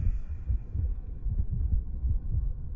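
Heartbeat pulse effect in an anime, low muffled thumps repeating in a steady double rhythm, close and throbbing under a faint hum, with no voices.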